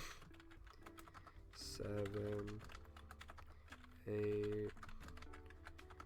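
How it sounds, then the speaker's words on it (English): Quick, soft clicks of typing on a computer keyboard run throughout at an uneven pace, partly under a voice counting aloud. "I shouldn't be typing it all out."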